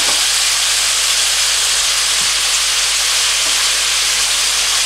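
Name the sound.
onion added to pot with pork chops, sizzling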